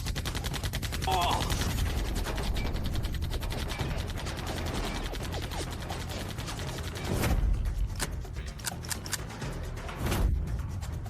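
Rapid cartoon gunfire from two guns in an animated action story, a dense sustained burst of shots across most of the clip, then a few sharp clicks and scattered reports near the end, with a brief voice exclamation.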